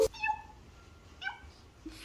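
A cat gives two short meows, the first a clear rising call and the second briefer, close by and fairly quiet against a hushed indoor background.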